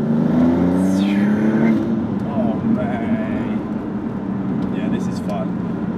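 Maserati MC20 supercar engine accelerating with a rising drone and turbo swooshes, loud and close from the cabin, with a person talking over it.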